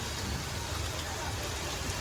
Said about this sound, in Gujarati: ઘડીકમાં પલ્લાળી દે એવો વરસાદ આવે